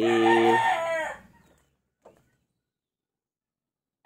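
A rooster crows loudly and close by in one long call, followed by near silence with a couple of faint brief noises.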